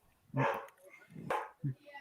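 A dog barks a few times close by, sharp yips and woofs mixed in with people talking.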